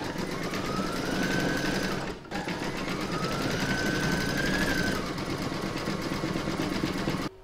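An embroidery sewing machine stitches an in-the-hoop coaster in red thread, running as a steady, loud, rapid mechanical whir that pauses briefly once and then carries on.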